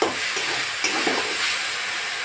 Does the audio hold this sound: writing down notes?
no